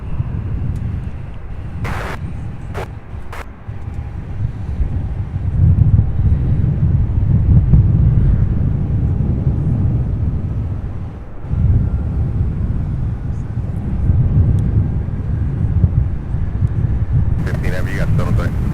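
UPS Boeing 767 and 757 freighter jets taxiing at Louisville airport SDF, a continuous low rumbling engine roar with wind buffeting, steady and moderately distant, with a few brief clicks.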